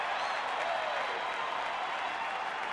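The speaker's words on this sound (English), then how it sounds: "Sarcastic cheer from the fans." Baseball fans at a Cubs home game give a sarcastic cheer after a catch for the first out, a steady, broad crowd roar with applause heard from a distance and sustained throughout.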